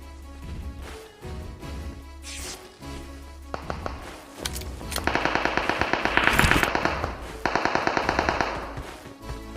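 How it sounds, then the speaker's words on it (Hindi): Automatic gunfire in the PUBG Mobile video game, scattered shots at first and then a loud, fast, evenly spaced burst that keeps going over a low game background. "वहाँ से फायरिंग आता है।"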